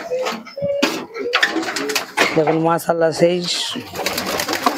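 Malwai pigeons coo in repeated soft, throaty calls close by as they are let out outside, with someone talking over and between them.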